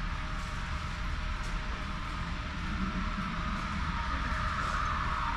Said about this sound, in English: This is another Streeter, Illinois bound train that is handed over to Conrail here bypassing Chicago.